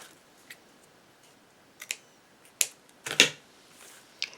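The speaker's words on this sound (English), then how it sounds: "I'm going to cut it." Ribbon is cut with scissors while making small bows, giving a few sharp, separate snips close by in a quiet room, with short pauses between them.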